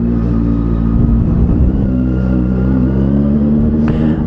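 Benelli 600 GT motorcycle pulling away in first gear, a loud close engine drone that swells and rumbles steadily throughout, with a clatter of revving near the start and no voices.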